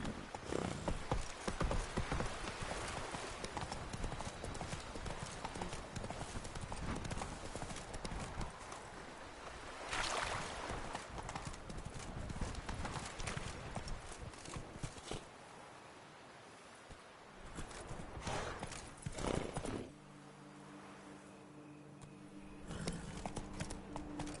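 A horse gallops in The Witcher 3: Blood and Wine, its rhythmic hoofbeats clopping steadily and close, easing off briefly at two points before picking up again.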